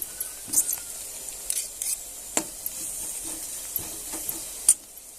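Onion and ginger-garlic paste sauté in a pan, giving a faint, soft sizzle. A spoon stirs and scrapes with several sharp clicks and taps over the low frying hiss.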